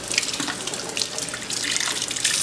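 Water running from a kitchen tap over an ear of corn with its husk peeled down, a steady splashing hiss with shifting spatter as the corn is turned under the stream.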